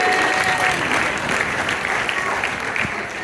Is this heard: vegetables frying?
no